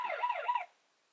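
Warbling electronic alarm siren from a BOBLOV KJ25 body camera, a short loud wavering tone lasting well under a second before cutting off to silence, close to the listener.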